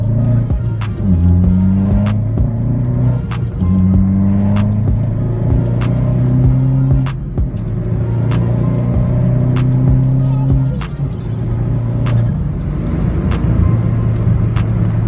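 A Vauxhall VXR with a modified loud exhaust drones and roars through repeated rising pitch sweeps as it accelerates hard, with steady road noise throughout.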